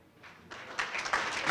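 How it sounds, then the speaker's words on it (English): Applause at a high school athletic booster club banquet starts faint and builds quickly into a dense round of clapping from a crowd heard at a distance. "please enjoy a round of applause"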